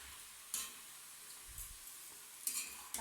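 Spice paste for a cabbage curry sautés in a pan with a soft, faint sizzle, punctuated by a few sharp scraping stirs and a light clink of the utensil, with no voices.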